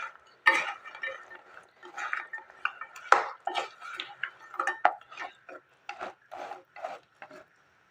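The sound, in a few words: stirring suji pitha mixture in a pan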